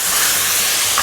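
Aged vinegar hitting a hot wok gives a loud, continuous steamy hiss and sizzle, close and steady throughout the short moment.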